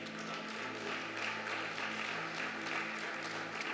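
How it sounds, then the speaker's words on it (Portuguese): Church congregation applauding throughout a Sunday worship service, a dense and steady wash of many hands clapping with no pauses, held at an even level the whole time. "Vamos aplaudir a palavra do Senhor?"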